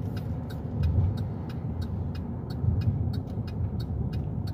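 A 2017 Chevrolet Traverse on a brake test drive, heard as steady road and engine noise from inside the car with faint periodic ticks and clicks above it, no voices.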